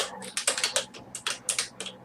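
Fingers type on a computer keyboard in a quick, close, uneven burst of sharp clacking keystrokes over about two seconds, with no talking.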